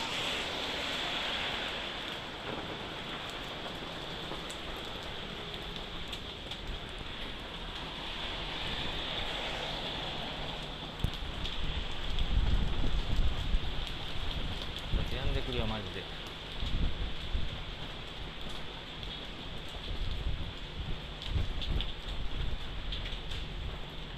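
Rain falls steadily outdoors as a continuous hiss with some gusty, surf-like swells, while occasional low thumps and a voice sit faintly under it.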